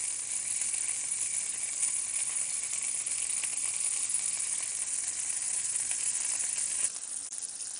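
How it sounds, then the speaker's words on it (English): Lamb chops searing on their edges in a hot pan give a loud, steady sizzle with no voices, easing slightly in the last second. "you want to make sure you sear your lamb on all the other sides"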